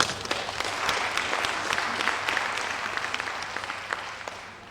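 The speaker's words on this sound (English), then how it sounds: "please clap for yourself" A conference room full of people applauding, steady clapping that slowly fades toward the end.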